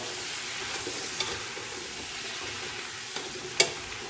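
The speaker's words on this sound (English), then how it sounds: "I'm going to mix it so it can coat it with the butter." Yams cooking in butter are stirred in a pan, a soft steady sizzle running throughout with a few faint scrapes and one sharper clink near the end.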